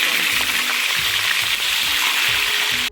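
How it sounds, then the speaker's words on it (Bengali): Seven boiled eggs fry with a little salt in a pan for biryani, producing a loud, dense, continuous sizzle close up, with faint stirring scrapes underneath and an abrupt stop at the end. "এখন জাস্ট একটু লবণ দিয়ে ডিমগুলোকে ফ্রাই করে নেব"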